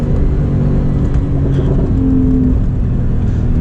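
Loud, close engine drone of a 2017 Porsche 991.2 911 under steady load during spirited driving, a deep throaty rumble with no pauses.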